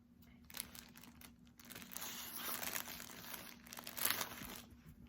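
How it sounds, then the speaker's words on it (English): A plastic package holding a set of yarn crinkles and rustles as it is handled up close, a soft, continuous crackle that swells a few times over a quiet room. "Sorry about the crinkling."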